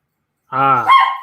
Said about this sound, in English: dogs will be making a lot of noise